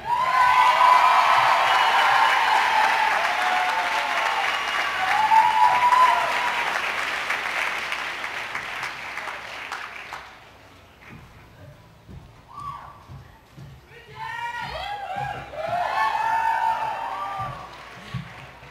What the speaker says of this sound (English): Let's have a round of applause for the class of 2011.